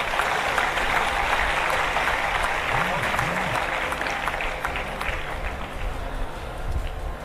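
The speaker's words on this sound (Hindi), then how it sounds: "इस बात पे सबको तालियां बजानी चाहिए।" Steady applause from an audience at a book launch ceremony fills the whole stretch, dense and continuous, with a few brief vocal sounds poking through.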